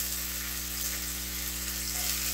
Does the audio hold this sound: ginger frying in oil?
yes